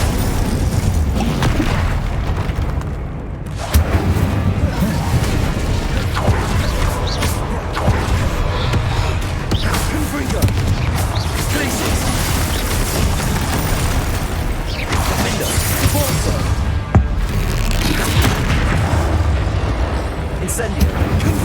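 Spell explosions in Hogwarts Legacy combat go off as repeated booms and bursts in a dense, continuous barrage, with a voice calling out over the clamor.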